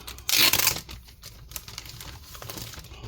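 A protective strip or film peeled off a Dell Inspiron 15 3520 laptop during disassembly, heard as one close, loud crackling rip lasting about half a second, followed by quieter scattered ticks and handling noises.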